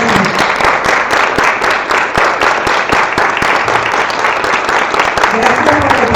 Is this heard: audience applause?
yes